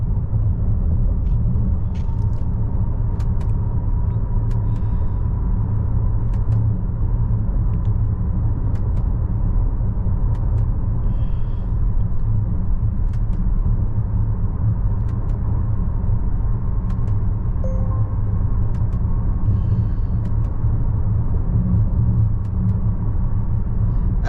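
Inside a 2025 Volvo XC90 cruising on the highway at about 80 km/h, a steady low road and engine rumble fills the cabin, with faint scattered ticks and no talking.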